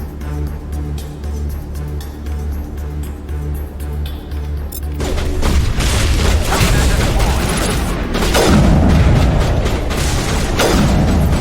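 Sniper rifle shots in Mass Effect, a quiet stretch giving way to loud booming reports and crashing impacts with dense combat noise in the second half.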